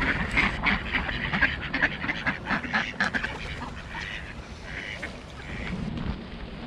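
Ducks quack repeatedly while being fed seed outdoors, with several close, rhythmic calls in quick succession over a soft background murmur.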